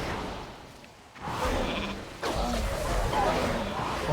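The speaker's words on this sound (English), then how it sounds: "All about turning him into sheep too." Sheep bleats from a polymorph spell in World of Warcraft: Dragonflight, a short bleat standing out in the game mix amid effects and background battle sounds.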